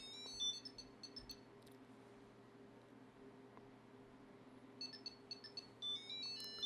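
A Tile Pro Bluetooth tracker plays a short bright electronic chime as it powers on, with high tonal notes at the start and again near the end over a steady low background hum.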